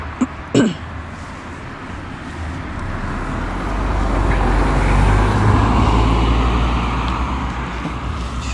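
Cars pass along a city street at night, a broad traffic rumble rising and fading, with a sharp brief knock near the start.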